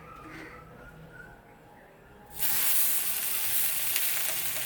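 Batter hits an oiled dosa griddle partway through, setting off a loud, bright sizzle that stays steady to the end after a quieter lead-in with low kitchen background.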